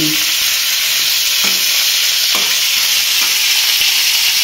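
Pieces of pointed gourd (parwal) fry in plain oil with a loud, steady sizzle that fills the whole stretch, broken by a few stirring scrapes, with no talk.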